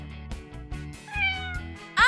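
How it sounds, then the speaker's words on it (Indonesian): A house cat meows several times close by in a rising, drawn-out call, with a soft voice briefly underneath. "Oh, kucing."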